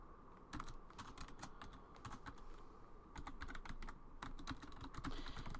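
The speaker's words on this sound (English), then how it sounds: "And don't mind my typing. I type furiously." Fast, furious typing on a computer keyboard, rapid clusters of crisp key clicks in bursts with brief pauses, close and fairly quiet, no talking.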